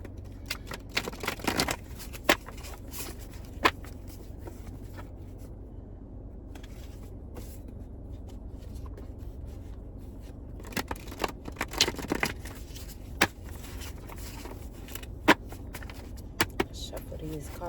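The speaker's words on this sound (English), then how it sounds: "Shuffle these cards up, then I'm gonna get into it." Tarot cards are shuffled at close range, a continuous soft papery rustle broken by sharp little taps and clicks scattered throughout, over a steady low background hum.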